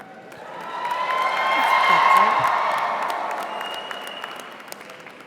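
A graduation crowd claps and cheers with whoops, the applause swelling to a peak midway before easing off, with indistinct voices woven through the noise.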